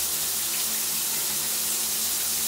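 Water sprays steadily from a running shower, a constant full hiss with a subtle low resonant drone underneath, no pauses or voices.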